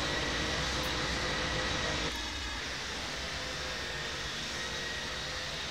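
A light airplane's engine drones steadily in flight during an approach to Sky Harbor, a loud continuous roar that drops slightly in level partway through as the engine settles back down, with no talk.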